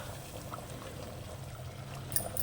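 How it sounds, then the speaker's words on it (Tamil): Steady low bubbling of a simmering tomato curry with soft splashing and a faint sizzle near the end as fried tempering is added, no voices. "வதங்கின தாளிப்பை கொதிச்சுட்டு இருக்க அந்த குழம்புல சேர்த்துக்கலாம்"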